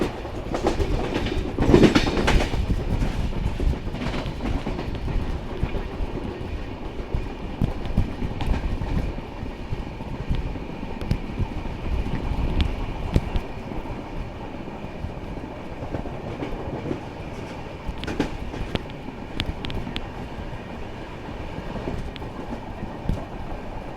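A Konkan Railway train running on a single-line track, heard from aboard as a steady rumble with rhythmic clickety-clack from the wheels and occasional sharper clanks, continuous throughout.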